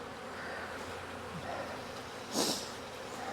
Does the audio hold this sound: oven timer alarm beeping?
no